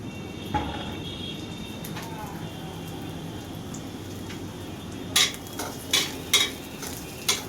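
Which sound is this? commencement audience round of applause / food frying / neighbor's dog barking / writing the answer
food frying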